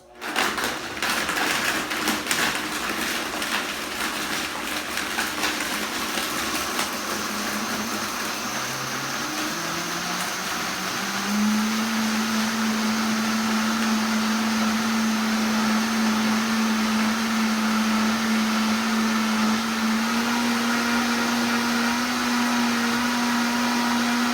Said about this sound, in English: So pop your lid on your blender.